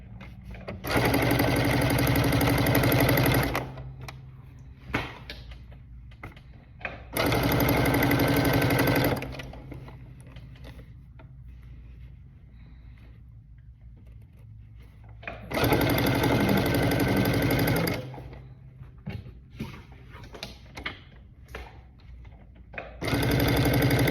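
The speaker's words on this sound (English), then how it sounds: "so I'm going to begin stitching" A sewing machine stitches fabric for a wall-hanging storage bag, running in steady loud bursts of a few seconds each with quieter handling and pauses between them, no talk over it.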